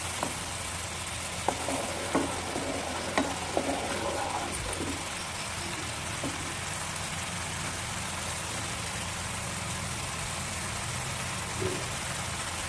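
Melted raw jaggery syrup cooks in a pan, a dense, steady bubbling hiss running throughout with a few faint clinks early on.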